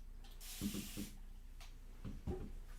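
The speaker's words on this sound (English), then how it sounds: "Spray that down just a little bit, spray out my colors" A spray bottle hisses water onto acrylic paints in a short burst, followed by a few soft clicks of the trigger and then another brief spritz, close and quiet.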